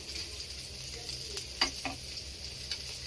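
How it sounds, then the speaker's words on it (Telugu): Fish pieces fry in hot oil in a home kitchen, giving a steady close sizzle with a few light clicks and taps from the pan. "ఆయిల్లో ఫ్రై చేసుకుంటున్నాము"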